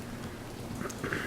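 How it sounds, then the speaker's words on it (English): Steady rain falling, a soft continuous patter and hiss with no voices. "It's raining."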